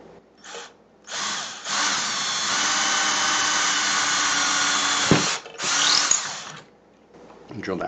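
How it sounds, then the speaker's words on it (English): A power drill bores a hole while building a 5-element Yagi antenna for the FM broadcast band, with short bursts, then a long steady whine of several seconds and another brief run, close and loud, no talking. "drill that hole."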